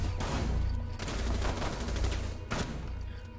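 Rapid bursts of gunfire from the Rainbow Six Siege video game, with shotgun blasts, dense and loud across the whole stretch, with sharp stronger reports near the start, at one second and around two and a half seconds.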